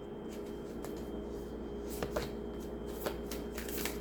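Tarot cards being shuffled and drawn during a reading: soft papery riffles and a few crisp snaps and flicks, close and fairly quiet over a steady background hum.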